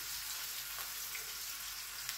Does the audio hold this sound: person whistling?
no